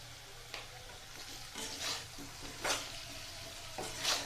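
New potatoes, parboiled, fry with onions and salt in a pan, giving a quiet, steady sizzle broken by several soft stirring scrapes.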